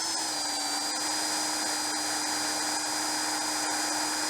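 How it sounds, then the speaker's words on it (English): A drill bores a 5mm hole through a ferro rod handle with a steady, high-pitched whine that runs loud and unbroken throughout, without talk. "Now that I'm happy where that is, go ahead and drill that"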